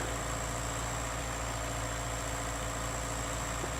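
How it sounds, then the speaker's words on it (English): A 100-horsepower tractor engine pulls a plow across a field in a steady, unbroken low drone with a constant mechanical hum and no talking. "it's a 100 horsepower tractor with a plow that requires 100 horse"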